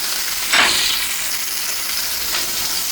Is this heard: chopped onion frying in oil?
yes